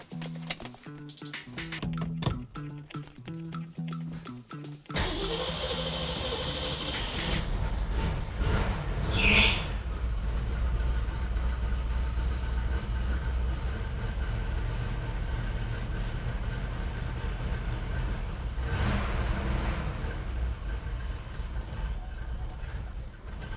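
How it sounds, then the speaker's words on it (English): A classic car with a mild cam that won't idle or stay running turns over after a quiet stretch, then settles into a loud, steady, close idle that runs without pause to the end. "This car doesn't have a big cam in it. It should idle very flat and smooth."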